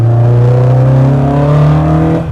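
A Ford Anglia fitted with a Cosworth engine revs close and very loud, a single sustained rising engine note with strong harmonics that cuts off at the end.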